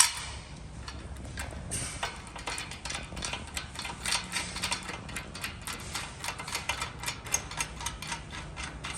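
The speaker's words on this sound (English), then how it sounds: "Drop your bolt through." A bolt dropped through and tightened on an OCAM roof rack mount for a Mitsubishi Pajero NS-NX, heard as quiet, rapid ratcheting clicks in a steady run throughout.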